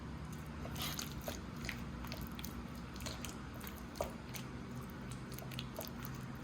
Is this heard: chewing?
yes